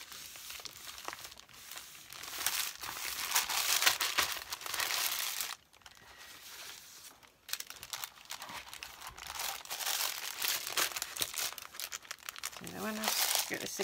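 Sheets of paper being folded and crinkled together into a journal signature, with a steady papery rustle and crunch running close by throughout, briefly pausing midway.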